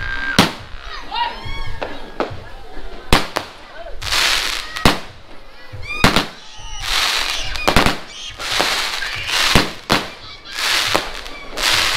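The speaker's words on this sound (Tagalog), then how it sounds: "Yan guys, Dragon Fireworks yan." Dragon-brand fireworks burst repeatedly during a New Year's Eve celebration, sharp loud cracks and crackling in a rapid irregular series, with people talking and shouting between blasts.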